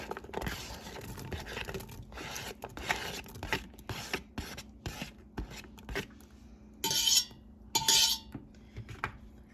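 Chopped onion scraped into a homemade chicken soup pot with carrots and celery, heard as close, irregular scraping and clattering of utensil against cookware, with two louder rattling scrapes near the end.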